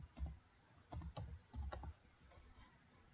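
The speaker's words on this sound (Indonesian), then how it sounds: "Kalau kita ketik penggantinya tadi Kalijogo" A handful of quiet keystrokes tap on a computer keyboard in two short bursts, close and faint against a near-silent background, as a replacement word is typed in during a find-and-replace task.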